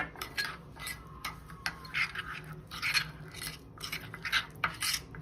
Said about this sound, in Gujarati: આપણે બટરમાં ગાર્લિક મસાલો એડ કરી દઈશું, મિક્સ કરી દઈશું સરસ રીતે